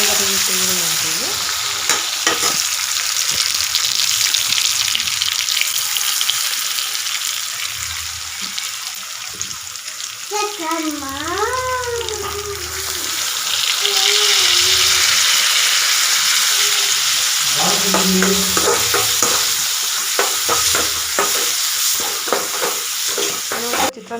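Onions sizzle steadily in hot oil while being stirred for lemon rice, with repeated scraping and clinking of the spoon against the pan and brief watery bursts, all close and fairly loud with no talking.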